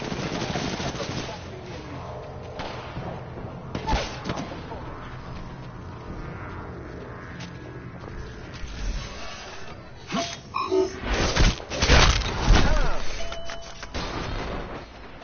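Mastiff shotgun blasts and other gunfire in the Apex Legends video game, loud booming shots scattered through the clip and clustering into a heavy burst near the end, alongside game effects.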